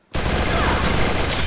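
Dense, continuous gunfire erupts after a brief silence and keeps going at full volume, a sustained barrage of rapid shots.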